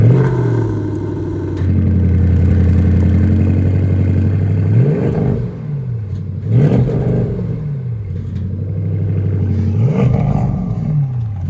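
A 2022 Porsche Panamera GTS V8 roars as it revs and accelerates on the road, with several rising engine pulls and gear changes heard from inside the car, deep and loud, with no talking over it.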